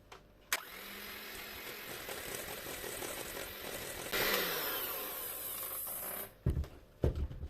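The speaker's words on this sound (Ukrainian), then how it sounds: "просію і буду збивати міксером" An electric hand mixer beats red velvet cake batter, a continuous whirring drone that swells louder midway, then cuts off near the end, followed by a few clattering knocks.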